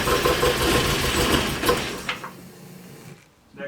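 Porsche 924, an early Euro-spec barn find, idling after a restart: a steady mid-pitched engine hum with a few knocks and clunks, then it falls quieter and nearly stops before a short burst at the end.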